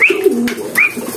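A pigeon coos close by, with two rising, throaty calls separated by a short pause. There is no other voice.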